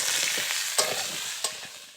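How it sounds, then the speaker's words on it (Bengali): Potatoes and drumsticks fry with onions in a hot pan, a dense steady sizzle broken by two quick scraping stirs, close and without voices. "আলু ও ডাঁটা পেঁয়াজের সঙ্গে খুব ভালো করে ভেজে নিতে হবে।"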